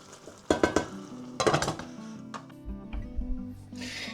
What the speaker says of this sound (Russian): Дадим еще минут 5 так протушиться.